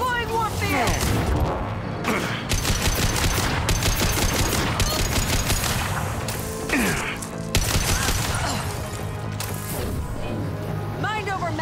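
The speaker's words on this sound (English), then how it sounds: "Firing a high impact shot!" Rapid gunfire and a heavy high-impact shot from a Mass Effect 2 battle ring out in dense bursts throughout, with a voice speaking over the shooting.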